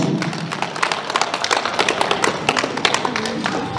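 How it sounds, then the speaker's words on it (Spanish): Guests at a silver wedding anniversary celebration clap for the couple's parents, a dense steady patter of hand claps filling the room at close to moderate distance, with no talk over it. "un fuerte voto de aplausos para mis padres"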